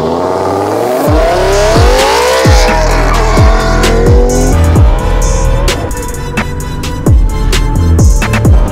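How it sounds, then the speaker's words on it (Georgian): BMW M6 with over 600 horsepower launching in a drag race, the engine revving hard and climbing through rapid gear shifts, loud and close, each upshift a sharp drop before rising again. "გიო, ჩვენ მზად ვართ, დასტარტე"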